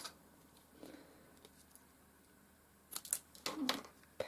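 Scissors snip through material for a papier-mâché Fabergé egg, a few quiet crisp cuts clustered near the end after a faint earlier snip, close and alone.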